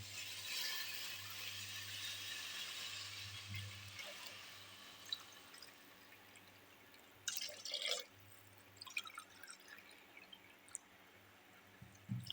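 Water poured into a cooking pot for millet khichdi, a steady splashing, trickling stream running several seconds before tapering into scattered drips and a few faint clinks at close range, with no talking.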